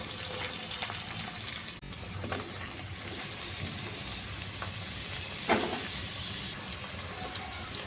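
Steady, moderate sizzling of ginger garlic paste frying in a pan, a continuous hiss that stays even throughout, with a brief scrape or stir partway through and no talking.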